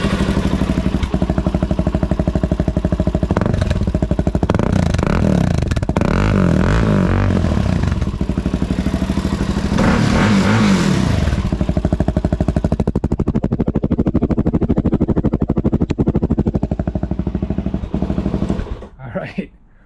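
A Suzuki DRZ400 motorcycle with a Black Widow exhaust runs close by, a loud, rapid, popping engine rumble with blips of revving that falls quiet at the end, with speech heard at times over it.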